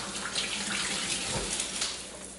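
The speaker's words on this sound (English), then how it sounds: "I'm gonna wet my hands again, rinse my hands off" Steady running water from a kitchen tap as hands are rinsed while mixing venison burger meat, a continuous close splashing wash without speech.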